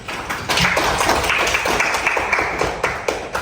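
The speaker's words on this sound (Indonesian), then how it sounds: "Oke, coba tepuk tangan dulu." Classroom students applauding at the teacher's request, a short burst of scattered hand clapping at moderate distance lasting a few seconds, with irregular claps throughout.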